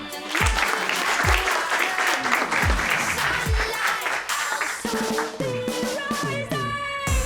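Applause from a crowd, steady and fairly loud, with music and a few notes rising beneath it toward the end.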